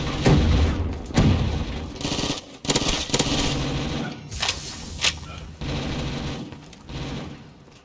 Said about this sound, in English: It's the fireworks!